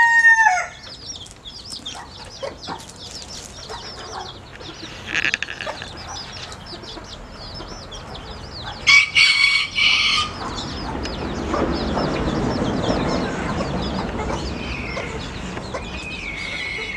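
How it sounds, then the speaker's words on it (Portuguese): A bantam hen clucks and cackles repeatedly, with other chicken calls and chick chirps scattered around, some bursts louder and closer than others. "A galinha tá fazendo festa."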